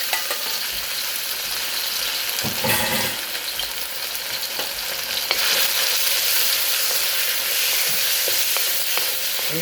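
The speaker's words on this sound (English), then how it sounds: "And you're going to basically stir fry." Beef sizzles and fries steadily in a pan with olive oil, a loud, constant crackling hiss with occasional scraping stirs and no talking.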